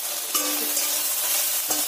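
Okra frying in a hot wok, a soft steady sizzle with two sharp stirring scrapes of the spatula, close by and alone.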